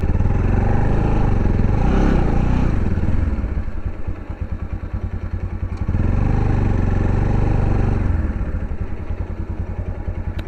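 Motorbike engine idling at a bike garage, a close, steady low chugging thrum with rapid even pulses, briefly blipped louder near the start and again midway before settling back to idle.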